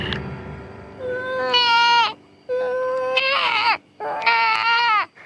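A voice imitating a deer distress call, delivering three loud, drawn-out bleating wails, each rising and cracking into a higher pitch before breaking off, with short pauses between them.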